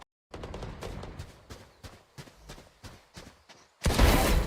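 Gunshots in a shooter video game: a quick run of about nine crisp, evenly spaced shots, then a louder, fuller blast at the end.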